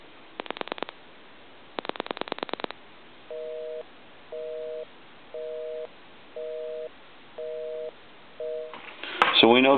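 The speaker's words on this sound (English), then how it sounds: "I'll dial my number and then it'll be busy." A restored Gulf gas pump telephone gives two bursts of rapid dialing clicks, then a run of evenly spaced busy-signal beeps, clear and close, ending in a brief burst of noise.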